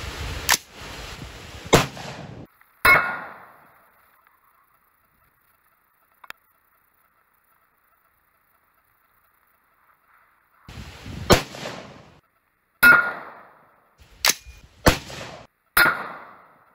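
Sharp rifle shots from 5.56 green tip and FMJ rounds fired at a quarter inch steel plate, each crack followed by a ringing decay, in two clusters separated by a long silent gap.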